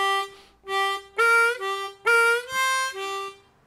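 Harmonica playing a one-octave blues scale in second position: seven or eight distinct sustained reedy notes moving through blow and draw holes, some bent, played clearly and alone in a steady phrase.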